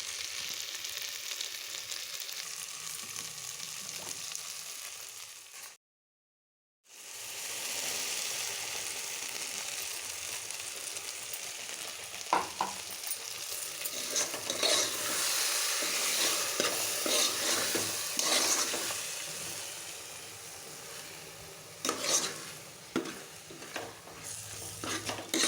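Tomato tamarind curry sizzles in hot oil in a pan while being stirred, a steady frying hiss with scraping and clinks of the spoon against the pan, interrupted by a brief silent gap, with no talking.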